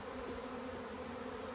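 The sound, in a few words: nurse honeybees buzzing in an open beehive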